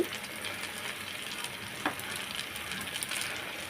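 Chira (flattened rice) pakoras fry in hot oil with a steady, faint sizzle while they are flipped, and a sharp clink of a utensil sounds once partway through.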